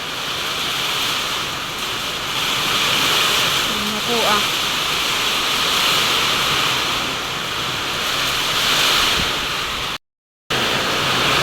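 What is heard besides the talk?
strong wind and heavy rain from typhoon Ramil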